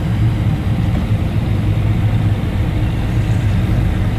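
A Chevrolet Silverado pickup on a test drive, its gearbox prone to slipping out of fifth gear; a loud, steady low engine drone and rumble fills the cabin continuously, with no one talking.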